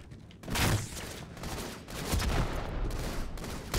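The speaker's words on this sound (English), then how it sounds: "I'm getting shot at from the other kid" Sustained bursts of rapid automatic gunfire from a Halo 2 Anniversary Team Doubles match on the Oracle map, loud and dense throughout with overlapping shots and no talk.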